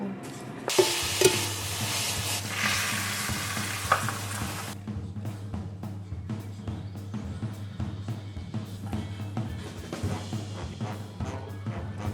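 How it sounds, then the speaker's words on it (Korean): Store-bought frozen shrimp tempura frying in hot oil, a dense crackling sizzle at first that settles into steady bubbling with scattered pops and a low kitchen hum, no talking. "오늘 점심은 지금 튀기고 있어가지고 이거 레베에서 산 새우튀김으로"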